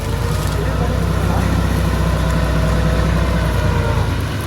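An engine runs loud and close with a steady low rumble throughout, while someone talks over it.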